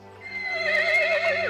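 A cartoon horse lets out a single long, rising and wavering whinny, loud and close, with no other sounds around it.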